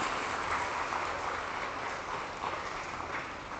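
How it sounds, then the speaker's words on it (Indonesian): Students applauding at a school anti-drug declaration event at MAN 2 Makassar, dense continuous clapping from a large crowd, loud and even throughout with no talk over it. "Ya, tepuk tangan dulu."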